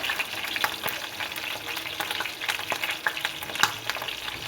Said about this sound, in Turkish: burada patlıcanlarım kızarıyor